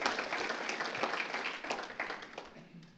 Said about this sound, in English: Give them a round of applause for all their care for our parish